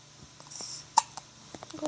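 A single sharp hiccup from a girl, close and brief, standing out over quiet room tone with a few faint clicks around it.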